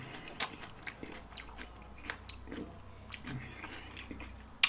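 Several close crunchy bites into a taco shell crackle in quick succession, sharp brittle snaps against a quiet room background.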